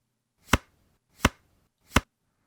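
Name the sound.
card slide sound effect, Kenney Casino Pack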